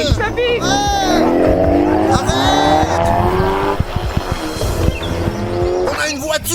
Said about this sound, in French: Oh, il y a une voiture. Ils partent.